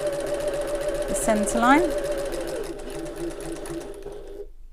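A sewing machine stitches a Half-pint Hobo bag, closing its turning gap with a steady, close motor whir that runs throughout while someone talks over it.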